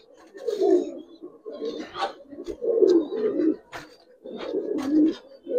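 Giribaz pigeons cooing close by in repeated throaty, rolling phrases, about four bouts with short pauses, with light flapping and chirps mixed in, no clear speech.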